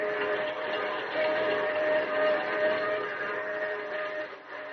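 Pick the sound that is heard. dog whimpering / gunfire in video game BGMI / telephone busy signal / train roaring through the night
train roaring through the night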